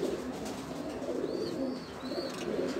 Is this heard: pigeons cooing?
yes